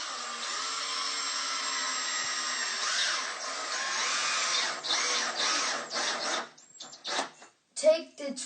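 Power drill driving screws into wood, a steady whine holding for several seconds, then stopping and restarting in short bursts near the end.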